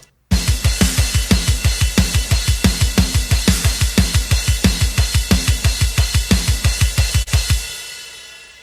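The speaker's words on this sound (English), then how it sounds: "And together they sound like this." Programmed metal drums from the MT Power drum kit and Naughty Seals Perfect Drum Player plugins, mixed in Reaper, pound out a fast, even kick pattern with cymbals washing over the top, loud and dry, then cut off with a ringing tail.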